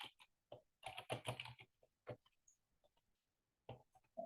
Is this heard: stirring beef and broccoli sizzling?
no